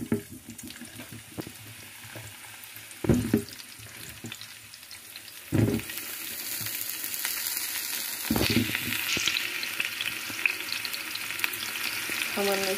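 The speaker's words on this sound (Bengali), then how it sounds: "আমি একটু তেল দিয়ে দিলাম, সামান্য অল্প তেল দিব, যেহেতু আমি এপিট ওপিট করে ভেজে নেব।" Potatoes frying in a small amount of oil give a steady, close sizzle, broken by sharp clatters of stirring and handling in the pan and a brief run of water near the end.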